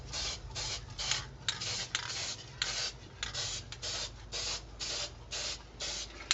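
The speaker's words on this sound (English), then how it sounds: "So just light sprays across the surface should do you just fine." Light bursts of spray paint hissing onto a Nerf Sharp Shot blaster, about a dozen short, close, fairly quiet sprays in an uneven rhythm with brief gaps between them.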